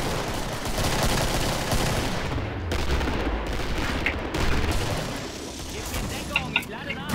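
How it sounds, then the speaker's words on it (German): Dense, continuous gunfire fills a Killing Floor co-op match, with a whole magazine emptied in steady automatic fire against a constant background of game noise and bursts of players' voices. "Uiuiui, ein ganzes Magazin in den reingepumpt."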